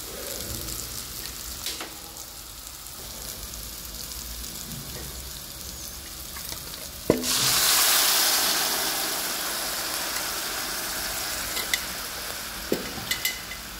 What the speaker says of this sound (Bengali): এবার আমি এই চানা লৌকির উপরে ঢেলে নেব